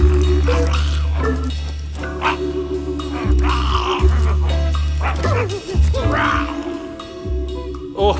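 A dog barks and yips several times in bursts, close and loud, with whimpering between and a voice speaking over parts of it.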